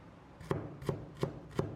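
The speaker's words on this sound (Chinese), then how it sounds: "准备1块去了皮的生姜，切成薄片，再改刀切成姜丝" A kitchen knife chops peeled fresh ginger into fine shreds on a cutting board, four evenly spaced crisp knocks, close and clear with no talking.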